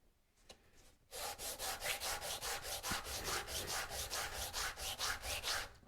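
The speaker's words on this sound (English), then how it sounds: "sand them down a little bit" Small wooden pieces rubbed by hand on a sheet of sandpaper laid flat on a table saw's table, giving about seventeen steady back-and-forth scraping strokes, close and even, after a brief quiet start.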